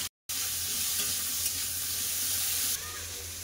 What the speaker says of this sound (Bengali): এপাশে মশলাটা ভাজা হচ্ছে